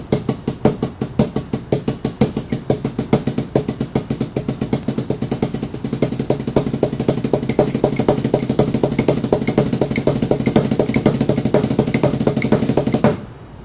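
Rapid, steady drum pattern played faster with one hand during a drum lesson, a dense run of evenly spaced, close, loud strokes sustained for over ten seconds before stopping abruptly, with no talking.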